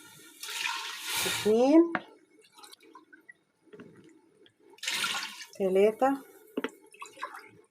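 Water is poured from cups onto soaked, washed rice in a pot, two separate pours with rising gurgling tones, while someone speaks quietly between them.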